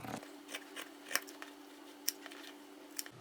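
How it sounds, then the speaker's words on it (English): Scissors trim the edges of denim fabric in a few crisp, separate snips, close and quiet over a faint steady hum. "I'm going to trim off this little bit of denim on the edges"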